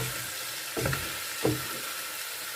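Chicken biryani cooking in a pot gives a low steady sizzle, with two brief stirring scrapes and splashes standing out against the faint continuous frying hiss.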